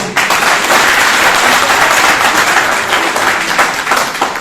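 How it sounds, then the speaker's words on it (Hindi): Audience at a talk breaks into loud, dense applause that holds steady for several seconds and fades slightly at the end. "इनके लिए तालियां जोरदार प्लीज।"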